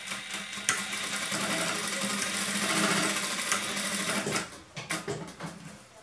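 A domestic sewing machine runs steadily, stitching elastic into a waistband of pajamas, a continuous close whir that stops and restarts in short bursts near the end.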